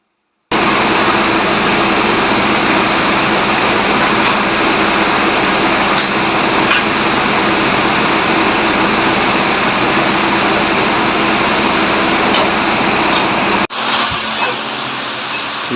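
A Ford Territory's engine idles steadily with a constant low hum and broadband whir, close and continuous, until a brief shift near the end.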